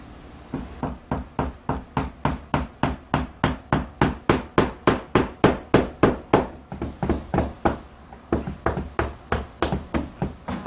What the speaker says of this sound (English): So we want to nail, and I'll put the nailing gauge on the other side.